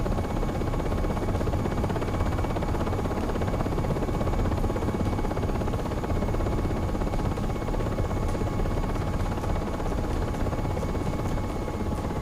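A Black Hawk UH-60 helicopter flies under manual control in the Aerofly 2023 flight simulator, giving a steady, unbroken rotor and engine drone at even loudness throughout.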